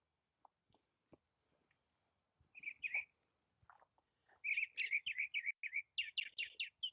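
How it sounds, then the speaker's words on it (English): Birds chirp outdoors in short, quiet tweets, then a steady run of rhythmic repeated chirps carries through the second half, a few faint ticks before them. "Oh, we got birds."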